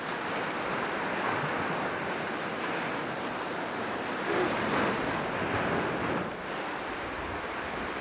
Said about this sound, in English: you can definitely see those waves rolling in today